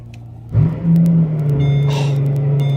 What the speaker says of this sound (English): about to start up the car right now